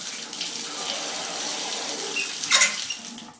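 Water runs steadily from a showerhead in an apartment bathroom, a continuous close hiss with a brief louder splash near the end before it fades.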